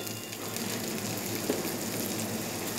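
Chopped onion added to a pan of frying garlic, ginger and chilli, giving a continuous close sizzle at an even level, with no voices.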